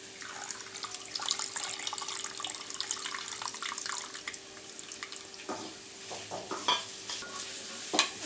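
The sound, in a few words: pouring and stirring tamarind water into eggplant pachadi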